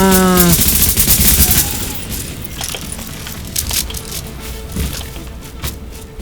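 Rapid gunfire bursts in the video game Tom Clancy's The Division, a loud rattle over the first seconds easing into scattered shots and impacts against a busy game background.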